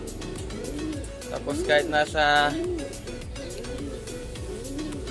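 Pigeons in a stock loft coo in repeated low, rolling calls, with a brief higher bird call partway through, while someone talks close by over them.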